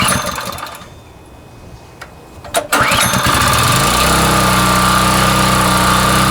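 A Homelite pressure washer with a Honda engine being pull-started, a quiet stretch and a couple of sharp rattling pulls before the small engine catches and roars into a loud steady high-pitched run.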